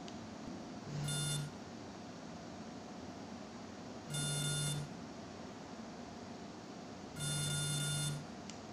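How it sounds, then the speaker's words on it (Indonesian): Three identical electronic beeps from a drone during a connection reset, evenly spaced about three seconds apart, each a short sustained tone over a quiet hiss. "sampai beep 3 kali ya."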